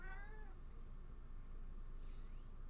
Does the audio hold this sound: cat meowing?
yes